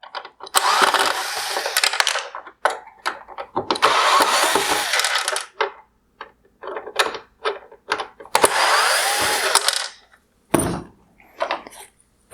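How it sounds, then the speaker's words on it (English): A power driver removes screws from the lower inside mount of a 2016-2019 Mercedes-Benz GLS550 OEM LED headlight, with three loud whirring bursts separated by short clicks and handling noises, up close. "I will start by removing the screws holding on this bottom inside mount."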